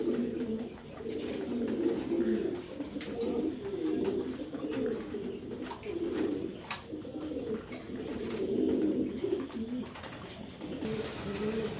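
A mated pair of pigeons coos in soft, low, rolling phrases that repeat every second or two, close by and fairly steady, with faint background hiss.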